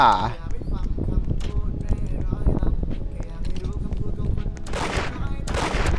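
Gunfire rings out in the Roblox game Da Hood as repeated sharp game gunshots under steady excited talk, close and loud throughout.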